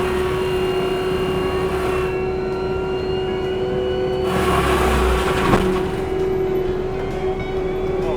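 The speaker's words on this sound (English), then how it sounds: "Let that motor wind up." A skid steer's industrial mulcher motor winds up in a steady, loud drone with a strong sustained tone, swelling slightly midway and then holding its pitch.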